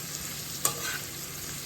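Tomato being stirred in a hot pan, a soft steady sizzle of frying with one brief scrape of the utensil, close and fairly quiet.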